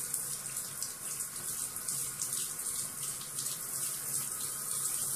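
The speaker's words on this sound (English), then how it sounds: "Cool water. Rinsing all the debris off of the hair." Cool tap water runs steadily from a faucet while rinsing debris out of dreadlocks, a soft continuous splashing hiss at low level with no talking.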